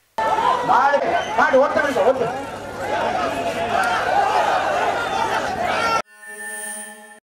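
A large crowd roars and shouts at the Alanganallur jallikattu bull-taming event as bulls and tamers come out of the pen, a dense mass of excited voices before a tonal beep at the end.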